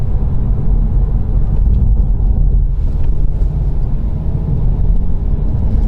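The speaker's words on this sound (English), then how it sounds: "for a 2-litre diesel, it sounds okay as well" Jaguar XE with a 2-litre diesel engine while driving, giving a steady low rumble with some wind noise throughout, continuous and fairly loud with no talk.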